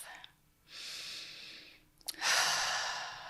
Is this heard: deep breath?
yes